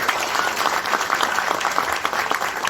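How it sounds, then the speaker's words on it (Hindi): Brisk, even applause from an audience at a Modicare business meeting in Matunga, Mumbai, many hands clapping in a dense steady patter throughout a short stretch. "तो डाडा साहब के लिए तालियां बजाई जाए"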